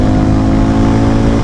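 A single-cylinder cruiser motorcycle, compared between the Harley-Davidson X440 and Hero Mavrick 440, roars loudly and steadily at full throttle, a dense continuous engine drone without speech.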